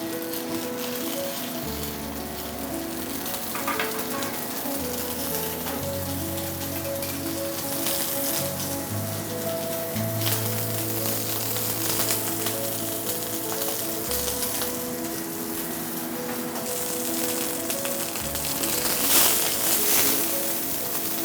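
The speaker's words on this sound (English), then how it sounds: "Then we put it on ice, and when it's cold, we're gonna fry them and bake them in the pan." Venison pieces fry in a hot pan in a Michelin-starred restaurant kitchen, giving a steady, dense sizzle like rain on a surface, with tonal kitchen hum and faint bursts of background clatter throughout.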